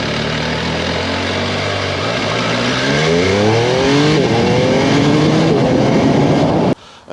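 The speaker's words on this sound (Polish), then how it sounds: "to jest wspaniały dźwięk silnika" Engine of an MV Agusta Enduro Veloce adventure motorcycle running through its stock exhaust, a loud close rev that climbs in pitch and then cuts off sharply near the end, with no talking.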